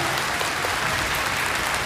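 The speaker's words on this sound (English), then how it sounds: "Ooh, I got teachers clapping." Steady, dense applause from teachers in a middle school assembly audience, a sustained wash of many hands clapping with no break.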